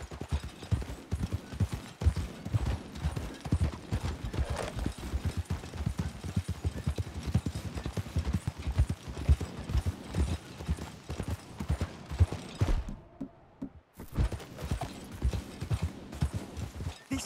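Steady clip-clop of horse hooves at a walking pace in Red Dead Redemption, close and fairly soft, with a brief pause near the end.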